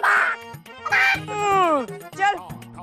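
A voice imitates a chicken with nasal, clucking squawks in a few bursts, close and loud, with a swooping call in the middle.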